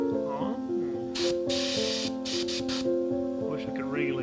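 Several short bursts of an airbrush spraying paint hiss in quick succession, close and loud, layered over a steady hum and brief talk.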